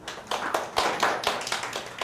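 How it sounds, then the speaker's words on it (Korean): Audience of parents at a Korean university admissions strategy information session claps briefly, a short burst of mixed hand claps filling the room with no talk over it. "박수까지 쳐주시고."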